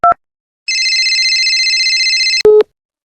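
A telephone call to the police produces loud electronic tones: a brief beep, then a long sustained ringing tone, then a sharp final tone.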